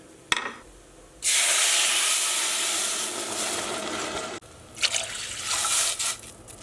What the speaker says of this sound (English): Alright, now I need to add some water.